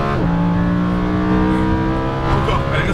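Lamborghini Huracan LP610 on a race track, its engine droning steadily and loud as it accelerates, with a clear rising harmonic tone held throughout under an instructor's spoken coaching.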